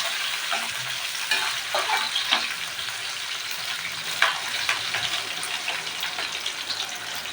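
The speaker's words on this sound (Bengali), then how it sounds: "আমি কাঁচামরিচগুলো দিয়ে দিলাম। সামান্য ভেজে নেব।" Green chilies frying with browned onions in a pan for a green banana and rohu fish curry, giving a busy close sizzle broken by stirring clatter and scrapes.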